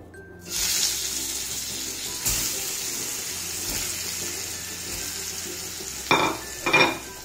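Sweet potato pieces being sautéed in ghee, a soft steady sizzle with a few clattering utensil knocks and scrapes near the end, close and fairly quiet, no talking.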